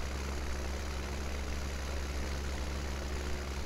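A tractor engine idles in Farming Simulator 17, a quiet steady low rumble with a constant throbbing hum and no change in pace, heard alone without speech.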